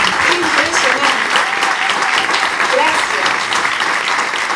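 Sustained audience applause at an event marking forty years of democracy, a dense steady clatter of many hands clapping throughout, loud and close.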